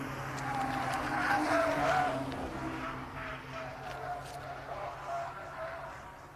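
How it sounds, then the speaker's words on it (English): Race cars in an EnduroKA endurance race at Oulton Park roar past with a loud, rising engine note, then fade into a steadier drone with some tyre noise. "Stachini really is sticking to the back of that IP Racing car"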